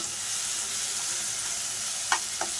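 Grated raw mango chutney sizzles gently in a hot pan, a steady soft hiss throughout with two brief louder clinks or scrapes near the end, no voices present.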